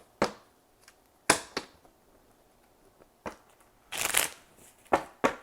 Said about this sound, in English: Let me get these shuffled.